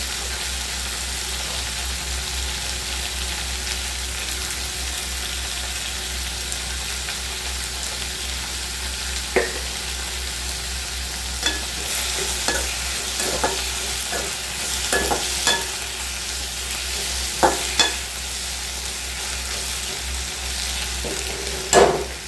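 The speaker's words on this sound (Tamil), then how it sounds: "தக்காளி நல்லா வதங்கட்டும்." Tomatoes sautéing in a pan for omelette egg curry, giving a continuous steady sizzle with intermittent stirring scrapes and taps that grow more frequent toward the end.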